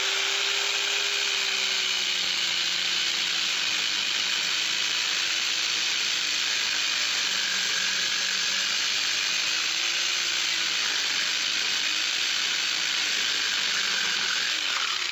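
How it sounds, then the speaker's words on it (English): A counter-rotating dual saw with diamond blades plunge-cuts straight down into a cinder block, making a steady, loud, close grinding whine that holds without a break. "I'm going to do a plunge cut straight down into a cinder block."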